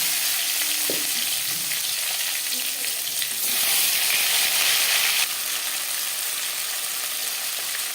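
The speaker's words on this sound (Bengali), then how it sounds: "পাঁচ ফোড়ন তেজপাতা ভেজে নেওয়ার পর" Five-spice seeds and bay leaves frying in hot oil, a loud, continuous close sizzle that swells briefly partway through before settling back to a steady hiss.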